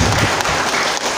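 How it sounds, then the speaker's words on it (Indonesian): Applause from a village audience at a prize-giving ceremony for Indonesian Independence Day (HUT RI 75) competitions, steady dense clapping throughout the short stretch with no talk over it. "Ya, tepuk tangan bapak-bapak ibu-ibu ya."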